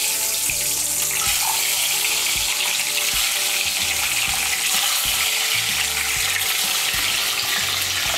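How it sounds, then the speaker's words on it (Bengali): Eggs rubbed with salt, turmeric and chilli powder fry in hot mustard oil, giving a steady loud sizzle with soft scraping and clinks throughout. "ডিমগুলোকে আমি লাল করে ভেজে নেব"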